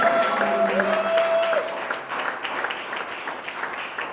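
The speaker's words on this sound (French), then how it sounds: "Vous l'acclamez encore plus fort que ça." A live audience bursts into loud, sustained applause and cheering at a French-language spiritual talk, dense clapping filling the whole stretch and easing slightly toward the end.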